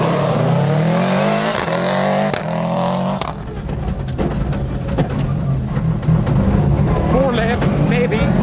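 Loud onboard engine of a Triton Subaru rally car charging through a 2001 Limerick rallysprint stage, revving hard with gear changes while a co-driver's voice calls pace notes over the roar.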